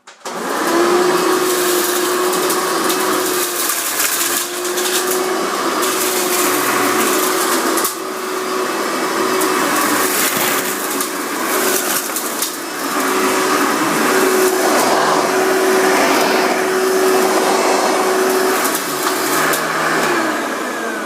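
A Hoover Elite vacuum cleaner runs continuously with a loud, steady whine and roaring airflow, close by, with brief dips where it is moved or bumped.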